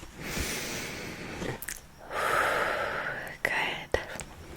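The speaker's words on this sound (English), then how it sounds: "Just take a deep breath for me" A person at a close-miked chiropractic appointment draws in a deep breath and lets it out in long airy swells. Soft snorts and a couple of sharp clicks break into the breathing, and quiet whispering runs under it.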